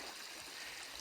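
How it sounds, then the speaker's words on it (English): The Musangashi River flows steadily nearby, a soft continuous watery wash with faint trickling texture and no other sounds over it. "one of the best parts about this site is the Musangashi River that's behind me."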